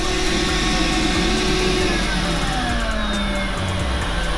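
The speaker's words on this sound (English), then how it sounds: "That's their vacuum, a new one? It's a robot vacuum. Powerbot." Samsung Powerbot robot vacuum cleaner running at a store demo, a loud steady whirring motor hum with shifting tones and busy store noise around it.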